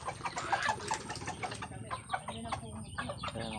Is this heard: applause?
no